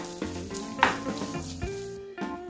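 Loud sizzling in a pan with a few clanks and scrapes of a utensil stirring a frying mixture with coriander leaves, close up and brief.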